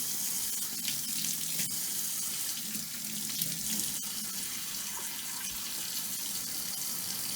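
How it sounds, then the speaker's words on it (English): Warm tap water running steadily into a sink as hands are washed, a constant close splashing hiss with occasional small clicks and no talk. "we need to wash our hands with warm water and soap for at least 20 seconds"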